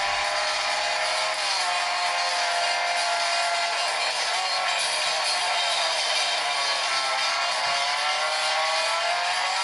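Car racing in the mobile game Real Racing 3 on a Meizu M5S phone, a loud continuous engine drone with steady high whine, no talking.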